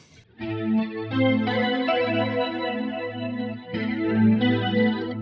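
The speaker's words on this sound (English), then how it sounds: "Checking the sound from the POG" Electric guitar played through a POG octave pedal into a Kemper Profiler, ringing sustained chords with thick octave doubling and a shimmering, slightly detuned chorus-like sheen; two long strummed phrases separated by a brief gap, loud and alone.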